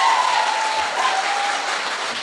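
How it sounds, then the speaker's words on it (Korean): A crowd breaks into loud, even applause, a dense wash of many hands that holds steady and tapers slightly toward the end. "박수!"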